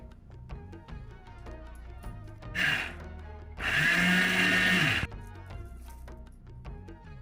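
A mixer grinder whirs through roasted grated coconut for chutney in two bursts, a short pulse and then a longer steady roaring grind of about a second and a half, loud and close against quiet kitchen background.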